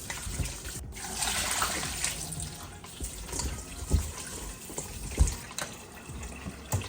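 Running tap water splashes and gurgles as chicken feet are rinsed under it, uneven and moderately close, with occasional knocks and sloshes.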